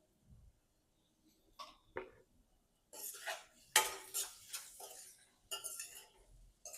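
A spoon mixing sugar into poha in a pan, with a few faint taps early on, then a denser run of metallic scraping and clinking against the pan, close and moderately soft.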